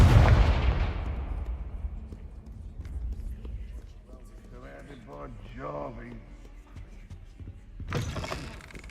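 A Confringo fire spell goes off in Hogwarts Legacy as a heavy, booming blast that decays slowly, followed by low game rumble and faint tonal effects, then a second sharp burst near the end.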